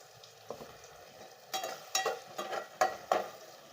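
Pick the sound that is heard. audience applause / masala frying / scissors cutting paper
masala frying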